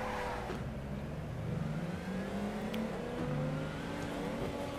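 A drift car engine in Torque Drift's Formula Drift challenges revs hard and climbs in pitch, with a gear shift midway. The engine whines steadily and loudly up close, with no talk over it.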